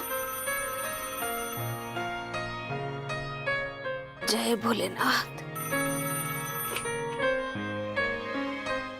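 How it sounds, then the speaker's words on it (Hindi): An electronic phone ringtone chimes in a repeating melodic pattern, briefly interrupted midway by a short spoken exclamation before the ringing resumes. "किसका फोन आ गया?"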